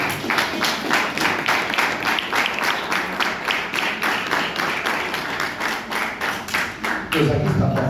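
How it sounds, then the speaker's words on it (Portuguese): A church congregation claps in praise to Jesus during a worship service, a loud rhythmic, fairly even beat of many hands lasting several seconds before ending abruptly. "Aplaudindo Jesus."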